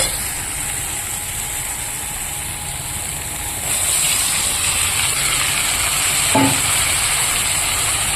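Boiled chickpeas, peas and potato stir-fry with spices in a pan, giving a steady, close frying hiss that grows louder partway through, with a brief clink of utensils near the end.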